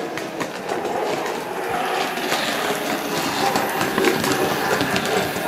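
Continuous rattling clatter of a Bachmann Fowler 3F Jinty model steam tank engine running fast along track, with rhythmic clicking wheels, close by and fairly loud.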